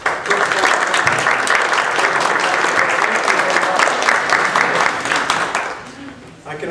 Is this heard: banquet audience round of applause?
yes